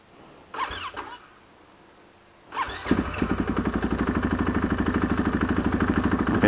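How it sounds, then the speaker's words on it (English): A 2021 KTM 500 EXC dirt bike engine cranks, briefly catches, then fires up and settles into a steady, rapid, loud idle close by. "And I gotta start the bike."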